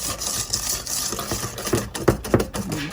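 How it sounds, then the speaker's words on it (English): Flour being stirred by hand into thick brownie pudding pie batter in a bowl, soft scraping and sloshing strokes with a few light knocks of the utensil against the bowl, close and steady. "we're going to take the rest of the flour. And we're going to mix that in."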